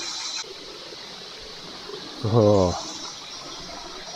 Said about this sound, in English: Oh, another little waterfall over here.